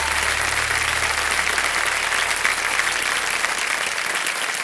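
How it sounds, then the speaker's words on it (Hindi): Audience applause on a quiz show, a dense, steady burst of clapping from a studio crowd that holds at an even, loud level throughout with no voices over it. "एक बार फिर जोरदार तालियों के साथ"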